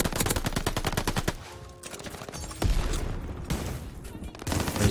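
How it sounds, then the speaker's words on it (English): Gunfire in the video game Call of Duty: Vanguard comes in loud, rapid bursts of automatic fire, then a short quieter gap, then heavy blasts and more rattling shots close up. "There's a shotgun, man."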